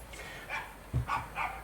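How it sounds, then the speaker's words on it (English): A family dog barks in a garden during fence work, a few faint short yaps and woofs from some distance, spaced irregularly. "our dog barking again"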